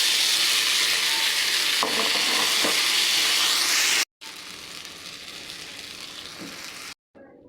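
Gravy with peas sizzling and frying steadily in a pan for a fenugreek, peas and cream paneer curry, a loud continuous hiss with brief breaks, no talking.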